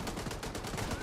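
Video game gunfire rattles in a short, rapid automatic burst, steady repeated shots at moderate level with a low rumble underneath, lasting about a second.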